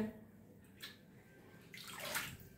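Flood water sloshes and splashes close by in a few bursts as it is scooped and emptied by bucket, with low background noise and no clear talking.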